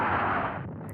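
Heavy WWII artillery and mortar fire rumbles as one dense, booming burst that rolls on and slowly fades, broad and loud with no talk over it.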